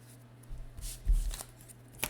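Cards from a Legendary deckbuilding game are drawn and slid across the table, a few soft quick shuffles and flicks, close and quiet.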